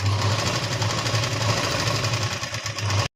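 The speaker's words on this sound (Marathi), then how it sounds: "ही दाब शिलाई टाकून घ्यायची ह्याच्यावर" A sewing machine top-stitches along a folded fabric edge, running continuously with a fast, even mechanical rattle and hum from start to finish before stopping abruptly.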